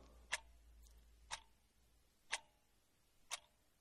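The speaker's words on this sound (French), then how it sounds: "C'est celui du tic-tac de l'horloge." A clock ticks four times at an even one-second pace, each tick sharp, close and isolated against near silence.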